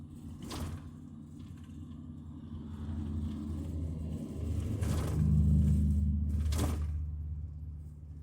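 A vehicle cruising at about 30 mph on a highway from Lethbridge, Alberta toward Dawson Creek, engine near 2,200 rpm, gives a steady low rumble and road drone that swells midway, with a few brief clunks or rattles.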